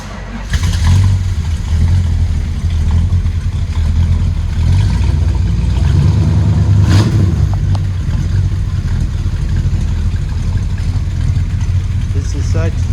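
A 1964 Plymouth Sport Fury with a 383 four-barrel V8 cold-starts and idles with a loud, steady low rumble and blips of revving throughout, recorded close by in a Texas driveway.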